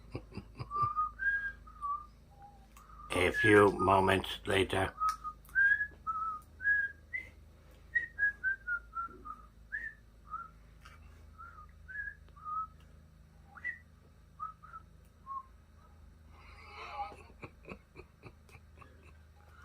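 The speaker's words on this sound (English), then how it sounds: "And now I will whistle the Jeopardy music" A person whistles the Jeopardy theme in a series of clear, bouncy notes, with a brief burst of louder noise early on and light rustling near the end.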